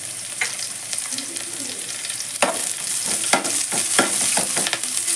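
Curry leaves crackle and sizzle in hot oil for a brinjal dum biryani, a steady loud frying hiss broken by sharp spattering pops and stirring clatters, with no talk.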